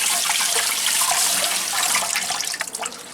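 Garlic cloves are washed under a running kitchen tap, a continuous splashing rush of water that turns more uneven near the end.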